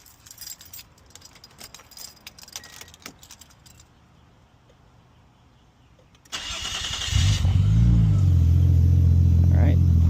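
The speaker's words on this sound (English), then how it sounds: "Now I'm going to start the vehicle one more time" A Nissan Stagea's keys jangle in the ignition before the engine cranks and catches, settling into a loud, steady idle rumble close by, with a person talking faintly beforehand.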